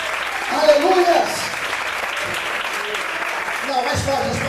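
A church congregation applauding during a sermon, a continuous wash of clapping with a voice briefly rising over it, then sustained clapping carrying on.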